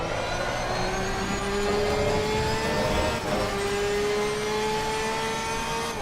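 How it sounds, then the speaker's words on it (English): A Porsche race car engine revving high in ACC at Spa or Paul Ricard: a sustained, loud whine holding near the top of the rev range, dipping briefly mid-run, then climbing again with no talk. "It sounds faster because the engine's revving a lot higher, right? So you got the engine going wee in your ears."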